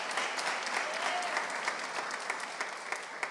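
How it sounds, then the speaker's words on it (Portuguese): A church congregation breaks into dense, sustained applause, a steady wash of many hands clapping together, fairly close and even in loudness throughout. "Pode aplaudir a palavra do Senhor"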